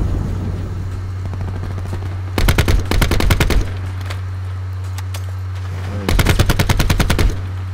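Purifier weapon firing in Call of Duty Black Ops 4: two loud rapid bursts of gunfire over a steady low hum, with quieter game ambience between.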